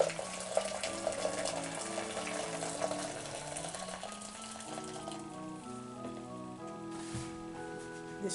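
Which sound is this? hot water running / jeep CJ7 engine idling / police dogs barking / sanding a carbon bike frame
hot water running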